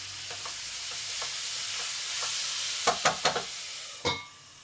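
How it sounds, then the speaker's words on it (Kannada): Sliced onions with a pinch of turmeric fry in a pan for an onion gojju, giving a steady close sizzle that is broken near the end by a few sharp stirring scrapes and clacks of a spoon. "ಇದು ಚೆನ್ನಾಗಿ ಫ್ರೈ ಆಗಬೇಕು."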